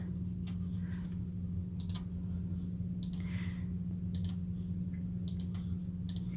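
Computer keyboard typing, a few sparse, light key clicks in small bursts over a steady low electrical hum, quiet and close.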